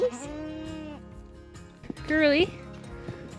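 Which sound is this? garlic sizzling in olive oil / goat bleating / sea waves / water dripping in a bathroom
goat bleating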